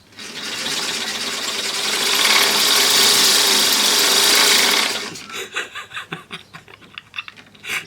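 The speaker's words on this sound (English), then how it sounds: "Now if I give that a bit of a spin, that shaft will turn at a rate of knots." An exercise bike converted with a long belt drive spins its flywheel and output shaft, making a rising whirring rush that peaks then cuts off into ticking, slowing rattles as it winds down nearby.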